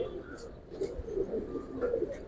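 Pigeons in a loft of Giribaz birds coo softly in short repeated phrases, fairly near, over a low room murmur.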